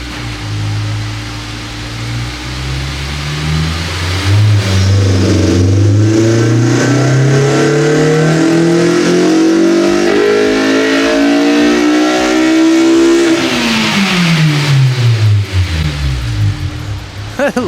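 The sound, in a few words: Honda S2000 engine revving with new exhaust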